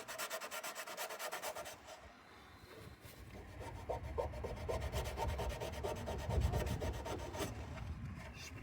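Steady hand sanding on rusty Mercedes W126 bodywork, a continuous rhythmic scratchy rubbing up close that grows coarser and louder in the second half, with no voices.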